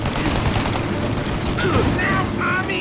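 Dense gunfire in a Mafia: Definitive Edition shootout, rapid overlapping shots and mechanical clatter forming a continuous loud barrage, with some whistling tones over the top near the end.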